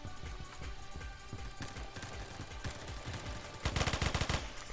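Rapid automatic gunfire rattles in Phantom Forces, continuous bursts of close, loud shots that intensify into a denser volley near the end, with no talking.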